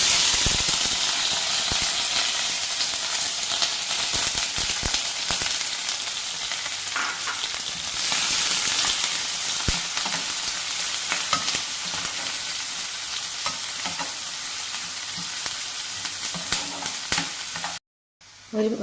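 Chopped onion, garlic and curry leaves fry in a pan for dal curry, giving a loud, steady, continuous sizzle with stirring scrapes throughout and a brief dropout near the end.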